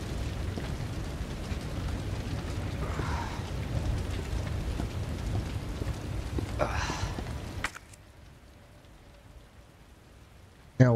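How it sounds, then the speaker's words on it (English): Steady heavy rain pours in the Resident Evil 2 video game, a dense continuous hiss that drops off abruptly near the end and leaves near-quiet. "It's raining. It's pouring."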